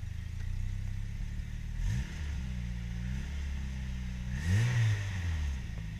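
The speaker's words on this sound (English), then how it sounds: "Oh, the anti-lag I miss so much" A right-hand-drive turbo B16 Honda EG6 revs in short bursts with its anti-lag system, engine pitch sweeping up and dropping back twice, with crackling pops over a rough idle nearby.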